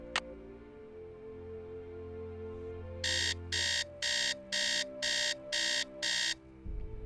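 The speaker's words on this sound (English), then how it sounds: "May recognize that alarm clock from Message in the Haunted Mansion and Treasure in the Royal Tower." An old-fashioned alarm clock in a Nancy Drew mystery game rings in seven evenly spaced loud bursts, each a sharp metallic jangle, over a low ambient game hum that fades back afterward.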